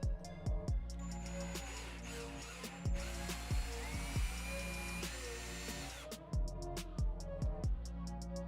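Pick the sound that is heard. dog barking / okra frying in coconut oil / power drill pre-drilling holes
power drill pre-drilling holes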